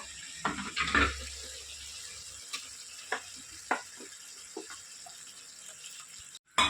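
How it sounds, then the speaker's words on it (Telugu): Water poured into a mixer grinder jar in a home kitchen to rinse out leftover spice paste, a brief splashing pour followed by quieter trickles and a few light knocks, close by with no talking. "మిక్సీ కూడా శుభ్రం కడిగేసి పోసేసుకోండి వాటర్"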